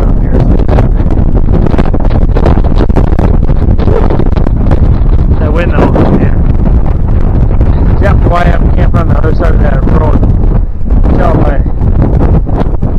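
Heavy wind buffets past a moving car on a winter drive along the Mississippi River, a loud, continuous roaring rush that fills the whole stretch without a break.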